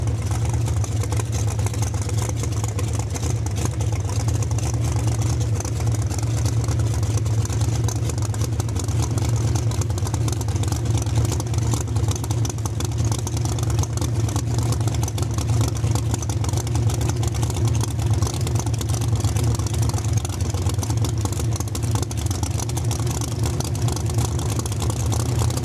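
A 1963 Corvette race car at Saskatchewan International Raceway sits running with a steady, loud, rumbling engine drone that barely changes over its whole length, with faint clatter on top.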